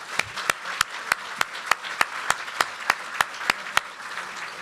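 Applause at a community service awards banquet, a dense patter of clapping punctuated by sharp, evenly spaced louder claps from someone nearby, steady throughout with no speech.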